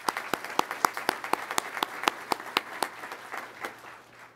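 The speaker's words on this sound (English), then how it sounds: "So I can get a round of applause." Audience applause at an Undergraduate Pilot Training graduation ceremony, a steady run of crisp claps from a sizeable crowd that thins and fades toward the end.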